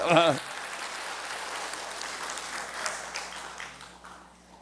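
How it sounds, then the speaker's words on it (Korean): An audience at a Korean church revival service claps together. The steady, even applause lasts about four seconds and slowly fades, right after a brief voice at the start. "박수 한번"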